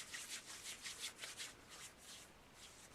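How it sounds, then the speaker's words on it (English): Hair product being rubbed between the palms, with soft rhythmic swishing strokes repeating about every quarter second, very quiet and close, with no voices. "you rub it in your hand until you can't see anything"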